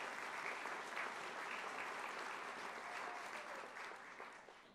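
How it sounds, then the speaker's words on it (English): Steady crowd applause fills a college commencement ceremony hall, a broad wash of clapping that holds even and fades slightly toward the end, with no talk. "Let's give them a round of applause."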